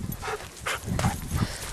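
Several excited dogs beside a freezing alpine lake on high Rocky Mountain tundra, giving short yips and whimpering barks in bursts, fairly close, with low rustling and movement between calls.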